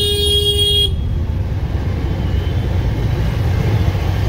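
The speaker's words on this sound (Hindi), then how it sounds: "हॉर्न बजाने से कुछ नहीं होता" A loud, steady motorcycle horn blares for about a second, then cuts off, leaving dense rumbling road traffic and engine noise.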